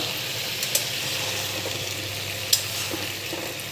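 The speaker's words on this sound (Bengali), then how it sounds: "ইনশাআল্লাহ আমরা এখন একটু নাড়াচাড়া করবো, দিয়ে দেখবো যে কী অবস্থা" Curry masala is stirred and fried in a pan, a continuous close sizzle broken by occasional scraping strokes and a couple of sharp metallic taps from the spoon.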